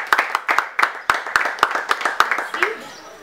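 A small audience at a formal introduction of administrative officers claps in rhythm, with sharp, evenly spaced individual claps that fade out near the end, while a voice speaks faintly underneath.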